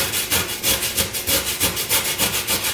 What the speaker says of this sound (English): So now that we've grated the whole core, we are going to put that in a bowl.